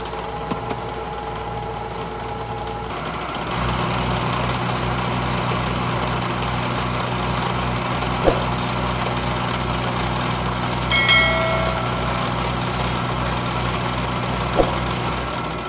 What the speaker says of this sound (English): I'll start by using a 2-flute high-speed steel end mill here to square up one end.